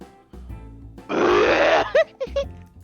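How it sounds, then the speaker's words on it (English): A video game character, Sayori from a Doki Doki Literature Club mod, lets out a long, loud, throaty burp followed by a few short giggling chirps, all close and clear. "Sayori burps with a small giggle."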